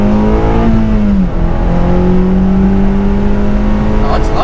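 A stock 9th-generation Honda Civic Si engine while driving, with a loud steady drone whose pitch dips and then climbs again as it shifts, alongside interior road noise.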